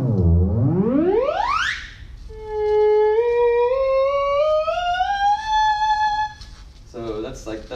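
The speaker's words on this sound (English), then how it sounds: "So that's straight dry theremin sound." Dry, unprocessed theremin sweeps in a long rising glide, then sings a wavering, pure-toned melodic line that slowly climbs, close and clear, before a voice begins speaking at the end.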